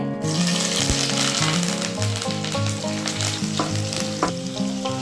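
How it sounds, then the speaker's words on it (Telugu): Curry leaves and green chillies crackle and sizzle loudly in hot oil for a cauliflower, potato and tomato curry, a dense steady spitting with sharp pops throughout and a steady tonal hum underneath. "కొంచెం మనం కరివేపాకు, పచ్చిమిర్చి వేసేసుకుందాము"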